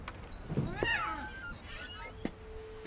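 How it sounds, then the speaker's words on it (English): A cat meows faintly in the video game What Remains of Edith Finch, one short rising-and-falling call in the distance amid a quiet ambient background with a few soft knocks. "I hear a cat."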